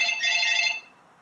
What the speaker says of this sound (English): sorry about that. That's my phone ringing.